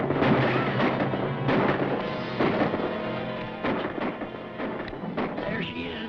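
Gunfire in a 1940 western film, a run of loud, sharp cracks and booms spread across several seconds, with dense crackling bursts over a steady rumbling backdrop.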